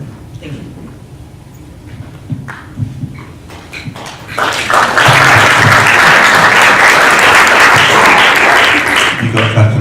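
Sustained applause from an audience at a talk in Senate House, London, swelling from scattered claps and murmuring into a loud, steady ovation that fills the second half.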